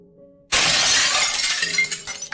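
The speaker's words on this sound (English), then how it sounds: "I heard the sound of glass shattering from a few rooms over" Glass shatters loudly and abruptly, a single sharp crash with a long, bright, crackling spray of falling shards that tapers off over about two seconds, heard alone with no voices.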